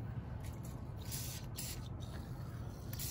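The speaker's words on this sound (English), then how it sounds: "I'm gonna put some WD-40 on there." A can of WD-40 sprays onto a brass irrigation valve outdoors, with faint hissing bursts over a steady low rumble of background noise.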